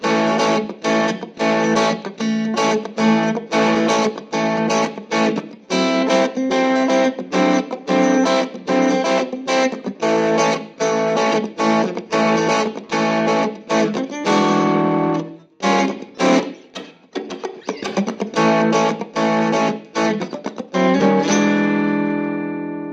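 An electric guitar plays through a Vox AC4 C1-12 low-watt tube amp with the front end turned up high and the master volume low, giving loud, overdriven chords and riffs in bursts with brief pauses and a ringing final chord.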